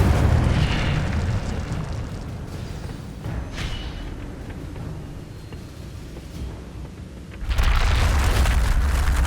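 An Incendio fire spell erupts in Hogwarts Legacy, a loud whooshing burst at the start that fades into rumbling, then a second heavy blast flares up near the end.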